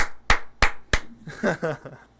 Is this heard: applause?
yes